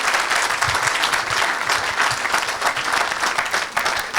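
Audience applause and cheering at a church gathering: dense, loud, continuous clapping from a large crowd, steady throughout without breaks or talk.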